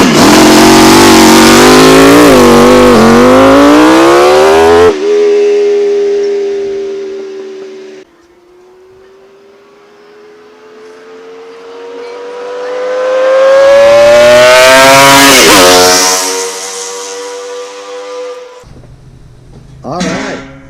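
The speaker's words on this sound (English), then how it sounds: "This time we're going to test the Millyard 1250 Kawasaki 5-cylinder" Allen Millyard's custom Kawasaki 1250 five-cylinder two-stroke motorcycle engine, running on aviation fuel with premix, revs hard on a dyno: loud rising and falling wails, an idle dip, then another climbing high-rpm scream and a sudden cutoff.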